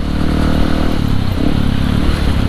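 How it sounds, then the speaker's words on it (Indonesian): A blue motorcycle engine runs steadily at close range, a loud continuous rumbling idle with a slight clatter and no change in pitch throughout. "Jadi Kang Ajgum mau nge-review motor ini"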